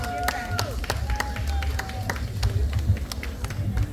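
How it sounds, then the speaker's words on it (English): Audience at the Maroon festival in Jamaica clapping in scattered, sharp claps over a low rumble, with voices talking through it. "Please give them another round of applause."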